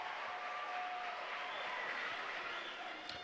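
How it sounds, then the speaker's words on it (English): A crowd applauds a 2.5 somersault pike dive at the NCAA Division II swimming and diving finals, a faint, distant and steady wash of clapping that echoes in the pool hall and lasts throughout. "Crowd loves it."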